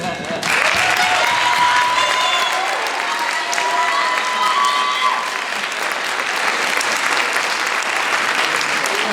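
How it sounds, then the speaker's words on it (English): A school concert audience applauds parents in a big, steady round of clapping that swells quickly and holds loud and dense throughout, with a few voices mixed in. "all students, we're going to applaud our parents and thank them for the support that they give us."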